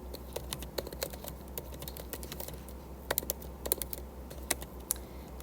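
Someone types on a computer keyboard in a rapid, uneven run of light clicks with a few sharper keystrokes, all set over a low steady hum, with no voices.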